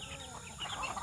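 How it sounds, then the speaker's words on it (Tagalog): Chickens cluck at feeding time, a dense, continuous chorus of close clucks and squawks over steady background noise with no talk. "patukain mo na yung mga manok guys, pinapatuka ni ate"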